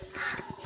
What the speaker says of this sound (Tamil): அதுதான் காக்கா.